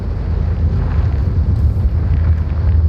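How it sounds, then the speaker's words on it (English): Explosions in the video game Pacific Drive roll out as a loud, continuous low rumble with a dense roaring wash, sustained throughout without distinct separate blasts and with no talking. "Whoa, there's lots of explosions."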